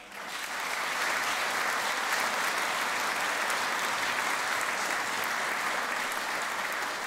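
A theatre audience at an operetta show claps warmly to welcome a performer, a dense, steady wall of applause that swells quickly and holds evenly throughout.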